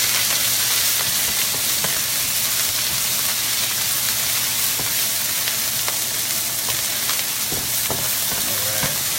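Tempeh frying in a pan for a Balinese dish, a dense continuous sizzle and crackle with steady loud hiss and occasional stirring scrapes, no talking.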